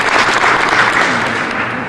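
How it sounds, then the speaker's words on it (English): A mall audience at Orland Square applauds, dense steady clapping from a crowd, loud and sustained throughout, easing slightly toward the end with no voices over it. "we want to give a nice big round of applause to the village and the police department"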